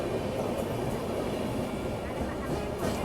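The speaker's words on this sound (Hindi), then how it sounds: "देखो यहाँ पे एक और इस रूट की प्रीमियम गाड़ी यानी कि अहमदाबाद मुंबई डबल डेकर वो भी क्रॉस हो रही है।" An Ahmedabad–Mumbai double decker passenger train crossing on the adjacent line near Navsari, heard as a steady, loud rolling rumble of wheels and carriages for the full stretch, with no pauses.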